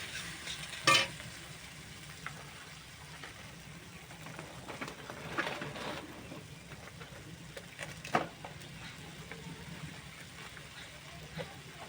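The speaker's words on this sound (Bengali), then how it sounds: "আলু আর ঢেঁড়স আমি কিছুক্ষণ কষে নেব" Potatoes and okra frying in a pan, a soft continuous sizzle broken by a few louder scrapes and clatters of stirring, fairly quiet and close.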